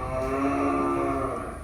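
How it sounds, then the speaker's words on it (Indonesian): A Bali cow in a cattle barn at a Tangerang sacrificial-cattle market gives one long, steady, close moo that fades only slightly at the end, heard alone without talk. "Coba kita ke kandang yang sapi Bali."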